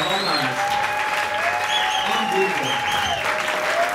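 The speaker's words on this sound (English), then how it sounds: "So how about a big round of applause?" Live concert crowd applauding the musicians on stage, a loud steady roar of clapping with a voice talking over it.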